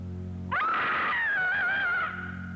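A scream from a haunted house game trailer rises sharply and holds as one loud, shrill cry for about a second and a half before cutting off, heard alone over a low musical drone.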